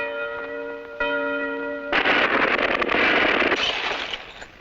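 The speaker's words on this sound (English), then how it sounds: "the bell on top of the tower. Perfect. Now let's see if it rings." A cartoon bell atop a tower rings with sustained metallic tones, struck twice, then breaks into a loud crashing, clattering burst that slowly fades.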